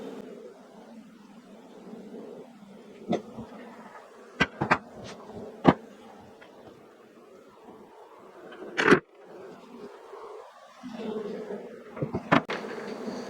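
Honey bees droning around an open hive in Northern Michigan, a low steady buzz throughout with occasional sharp clicks and knocks of hive equipment close by.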